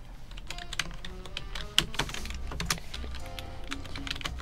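Someone types an email search on a computer keyboard, a quick irregular run of crisp key clicks with one sharper tap midway, close and clear with no talk over it.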